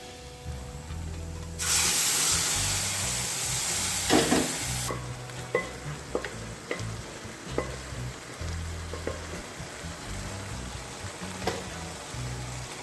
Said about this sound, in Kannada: ಇದಕ್ಕೆ ಚೆನ್ನಾಗಿ ಫ್ರೈ ಆಗಿದೆ ನಾವೀಗ ಬೇಯಿಸ್ಕೊಂಡಿರೋ ಮಟನ್ ಸೇರಿಸ್ಕೊಳ್ಳೋಣ